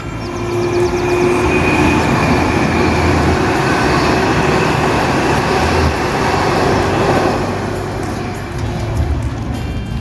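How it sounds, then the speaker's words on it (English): Train rumbling past on a nearby railway line during a countryside walk along the Dales Highway in Yorkshire, a steady loud roar lasting the whole stretch with a faint higher whine, no voices. "Thought I could hear a train."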